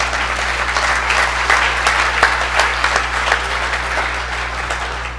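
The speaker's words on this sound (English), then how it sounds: "you should clap." An audience at an academic association gathering breaks into steady, full applause, continuous clapping from a sizable crowd with a constant low electrical hum underneath.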